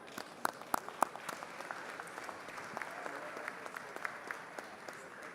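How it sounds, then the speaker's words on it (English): Gallery crowd in the Texas House chamber giving a round of applause for Reeves County, a steady wash of many hands clapping with a few sharper claps near the start, moderately distant and continuous throughout. "will you please stand up for a round of applause from Reeves County?"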